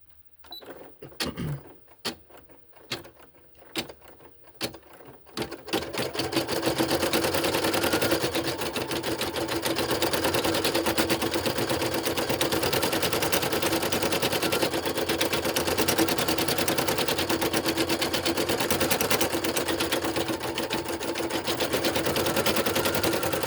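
An embroidery machine stitches a white outline on voodoo doll felties, opening with several separate clacks before settling into a loud, rapid, continuous needle chatter that runs steadily to the end.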